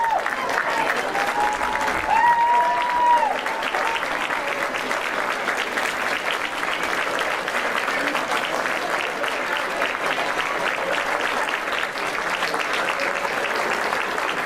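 Spectators applaud both lacrosse teams after a 2018 IAAM C Conference championship final, a broad, steady wash of clapping from the stands that runs unbroken for about fifteen seconds, with a voice heard briefly over it early on.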